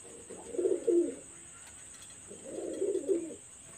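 Oman Teddy pigeons give two soft, low cooing phrases about two seconds apart, close by, over a quiet background with a faint steady high hum.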